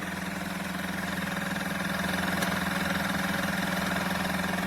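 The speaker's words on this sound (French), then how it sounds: "Après on peut entendre le moteur qui augmente." An Oral-B water flosser motor runs steadily with a constant hum and pump buzz, rising slightly in intensity, close and alone without talk.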